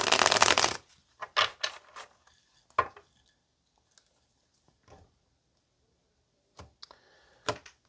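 A deck of tarot cards is shuffled by hand, a dense riffle burst at the start followed by scattered single card taps and slaps spread across a quiet room, close and crisp.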